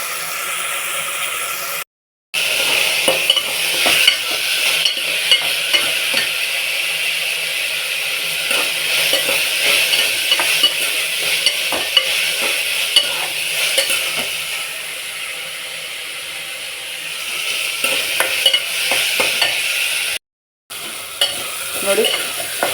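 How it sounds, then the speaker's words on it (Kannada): Fresh black-eyed beans and vegetables fry in oil in a pan while a spoon stirs them, a steady sizzle with frequent scraping clinks, close and continuous between two short gaps. "ಇವಾಗ ಇದು ಚೆನ್ನಾಗಿ ಎಣ್ಣೆಲೇ ಫ್ರೈ ಆಗಿದೆ"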